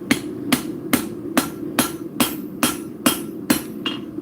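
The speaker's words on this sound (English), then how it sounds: "next, I'm going to texture the edges, some light hammer blows" Light hammer blows texture the edges of angle-grinder-cut metal, about ten sharp, evenly spaced strikes ringing close and loud with no talk.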